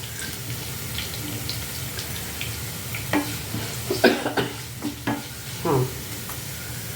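Garlic frying in a pan while being stirred, a steady sizzle with scattered scraping and clattering strokes of a spoon growing busier toward the end.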